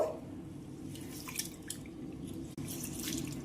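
Rice soaking in water is swished and rinsed by hand in a bowl, giving soft trickling, dripping and splashing water sounds, fairly quiet and close, with a brief clatter partway through.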